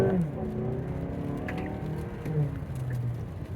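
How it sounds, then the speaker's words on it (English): Mazda CX-5 engine pulling under hard acceleration, its steady drone rising in pitch through the revs, close and continuous from start to end, with no talk over it. "Another hard acceleration."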